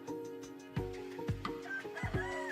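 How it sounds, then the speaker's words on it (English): A rooster calls out with several loud, drawn-out clucking and crowing bursts, close by, with no talking. "Roosters can get extremely noisy in the morning."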